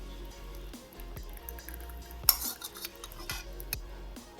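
Baby porridge is poured into a metal cup, heard as soft wet dribbles and several light metallic clinks of a spoon against the vessel, close and quiet.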